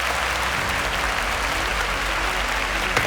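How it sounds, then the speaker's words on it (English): A studio audience on a student quiz show applauds the contestants, a loud, continuous wall of clapping that holds steady throughout. "A round of applause for them."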